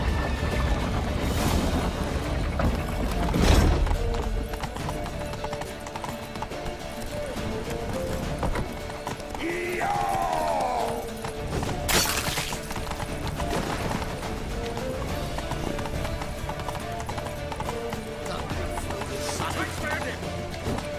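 Horse hooves galloping in The Witcher 3, a rapid clip-clop rhythm running under shouted dialogue and game music, with a whinny and sharp effects cutting in partway.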